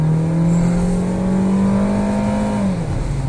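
A small 1.4-litre car engine revs hard in a loud, sustained roar with a steady high pitch, then drops off slightly near the end.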